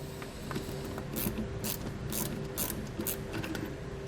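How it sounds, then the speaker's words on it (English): Ratchet wrench with a 10mm socket tightening nerf bar bolts on a 2015 Ram 1500, a steady run of quick clicking pawl strokes in short bursts, close and fairly quiet. "We're going to be using a 10mm socket and wrench to do so."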